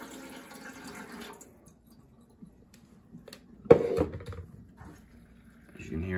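Water starting to run in a Bunn VPR commercial coffee maker after filling for a half pot, a faint gurgle and a brief louder splash midway, with someone talking before and after.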